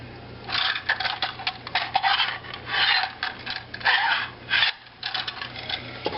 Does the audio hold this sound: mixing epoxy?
yes